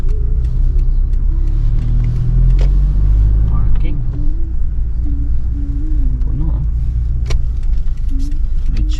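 Cars move through a busy Costco parking lot in Australia, giving a steady close engine rumble and tyre hum for the whole stretch, with people talking over it.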